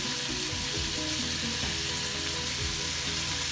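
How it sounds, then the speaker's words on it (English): Butter melts in a pan on high heat with a steady, loud, close sizzle and fine crackling hiss that runs unbroken and alone throughout. "So I'm letting that butter melt. And I melt that on high heat."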